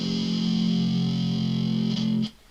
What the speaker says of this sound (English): I got down to a low F